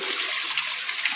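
Water from an open laboratory channel pouring through a triangular V-notch weir into a measuring cylinder, a steady bright hiss of flowing water with no pauses, moderately loud and close.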